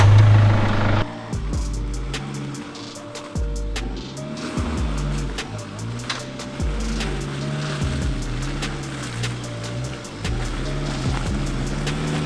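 A Nissan Patrol 3 litre 4WD climbs a wet, slippery, steep track at Kenilworth, its engine loud and close, revving in surging, rising and falling tones with thumps and knocks from the rough ground.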